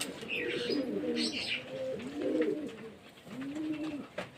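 A flock of healthy pet pigeons coos in close, repeated rolling phrases, a few soft chirps mixed in, with no talking.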